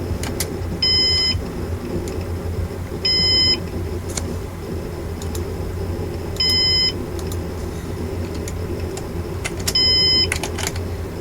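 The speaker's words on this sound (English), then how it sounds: "It's already beeping." A Synology DS220j NAS beeps in four short, sharp electronic bursts spaced a few seconds apart, each clear above a steady low hum of room and machine noise.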